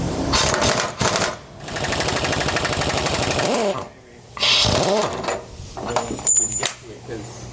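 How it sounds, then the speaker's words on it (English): An impact wrench loosens nuts while fitting a rear anti-sway bar on a 2017 Newmar Canyon Star motorhome, rattling in loud sustained bursts with brief pauses between them, followed by clinks of metal parts. "if you have an impact, that's definitely going to help you for this next step as well, because you need to begin removing these nuts"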